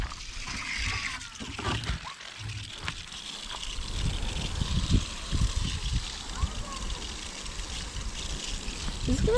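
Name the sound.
water poured into seed-starting mix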